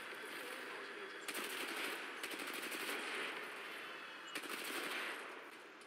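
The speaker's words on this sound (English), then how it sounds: "That guy's shooting at me" Rapid automatic gunfire from enemies in the shooter game Titanfall 2 crackles in bursts over a dense battle din, loud and continuous throughout, with faint voice beneath.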